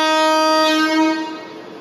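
A century-old train departing on the Ambarawa to Tuntang heritage railway sounds a loud, sustained horn blast that holds steady, then fades over about two seconds.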